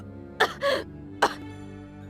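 A woman in the BlazBlue video game coughs and clears her throat in several short, strained bursts separated by pauses, close and fairly clear.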